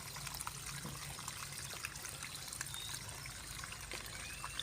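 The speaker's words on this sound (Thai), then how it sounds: "เดี๋ยวไล่น้ำเก่าออกให้หมดนะครับ ให้น้ำใสที่สุดนะฮะ" Old water draining out of a tadpole tank, a steady soft trickle and dribble that runs continuously and fairly quietly with no voices over it.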